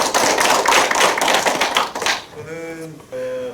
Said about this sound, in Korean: 큰 박수로 맞이하기 바랍니다.